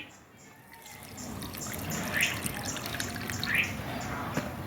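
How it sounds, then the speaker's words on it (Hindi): Water trickling and dripping as it drains out of a potted tropical hibiscus after watering with liquid fertilizer, a soft close-up dribble that builds gently. "तो इसमें 200-250 ml देने में अच्छा सा ड्रेनेज हो गया है, पूरा पानी निकल रहा है"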